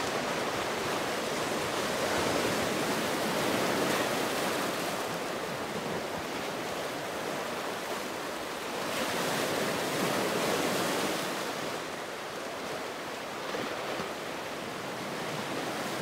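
Gentle waves wash steadily against black basalt rocks on the Jeju coast, a continuous close rush of surf that swells and eases softly, with no voices.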